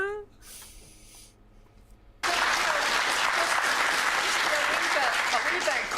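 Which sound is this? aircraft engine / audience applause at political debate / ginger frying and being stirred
audience applause at political debate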